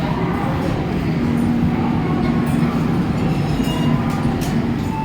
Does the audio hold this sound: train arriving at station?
yes